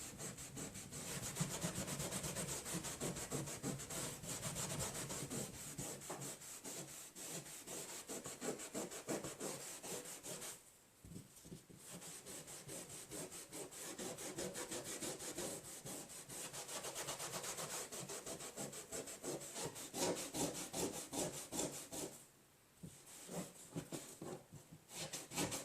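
A small piece of magic eraser scrubs a rust stain on a plastic Halloween blow mold, making fast, close back-and-forth rubbing strokes in a steady rhythm with a couple of short pauses.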